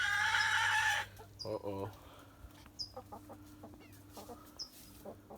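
Broody hen clucking softly inside a chicken coop, low repeated clucks and short calls at close range, with a brief voice and a burst of louder noise at the start.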